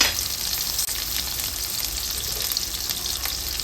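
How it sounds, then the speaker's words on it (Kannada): Onion and chilli fry in hot oil for a chana masala, a steady close sizzle with broad hiss running unbroken throughout, briefly dipping once near the start, with no talking. "ಚಿಲ್ಲಿ ಆಯಿಲ್ ಜೊತೆ ಚೆನ್ನಾಗಿ ಬೇಯಬೇಕು, ಅಂದರೆ ಚೆನ್ನಾಗಿ ಫ್ರೈ ಆಗಬೇಕು"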